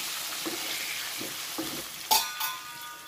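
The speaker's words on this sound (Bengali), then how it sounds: "ভালো করে একটু নেড়ে চেড়ে দেবো, হলুদটা সব জায়গায় যেন মিশে যায়।" Potatoes with turmeric sizzle steadily in a hot pan while a spatula stirs them in soft repeated strokes, with a sharper clatter near the end.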